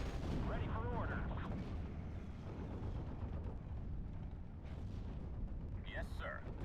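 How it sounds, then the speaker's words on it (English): Continuous rumbling artillery bombardment in the Normandy 44 wargame Steel Division, dense low booms and crackling blasts rolling without pause, with brief radio-style voices layered over the din. "Let's bombard this"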